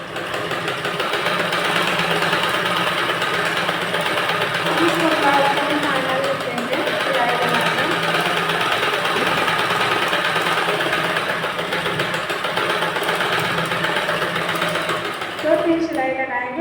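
A sewing machine runs steadily while stitching a Madhubala-style blouse, its whirring continuous under a woman explaining the work.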